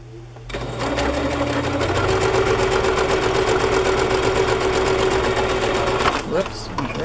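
Sewing machine stitching a cut folder half onto a journal page as a pocket, a loud rapid mechanical whirring run of about five seconds after a start, then stopping abruptly, with a voice speaking around it.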